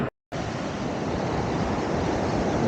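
Surf at Gopalpur beach in Odisha at sunrise makes a steady, broad roar of breaking waves mixed with wind buffeting the microphone. A brief silent gap comes at the very start.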